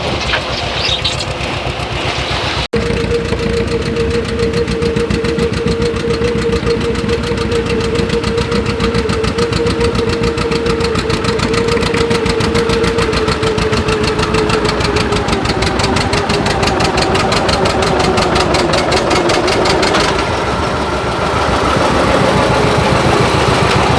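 Pulling tractor engine running steadily at a harvest festival while its carburetor is tuned, a loud, close, continuous rumble with a sustained mid-pitched tone that rises and then slowly falls, with no talk over it.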